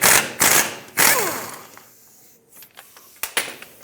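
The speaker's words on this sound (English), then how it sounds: "Now on the bottom, you'll see this 15mm bolt. Remove that, but hold the shock, otherwise it'll fall down as the bolt comes out." Ratchet wrench working the 15mm lower bolt of a Ford Focus rear shock absorber, 2012-2020 model, giving a few loud clicking bursts near the start, then quieter scattered clicks and light metallic taps.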